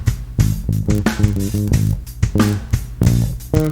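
Bass guitar plays the groove of a song in context with the full track, a steady low pulsing line under drums and other instruments, loud and continuous.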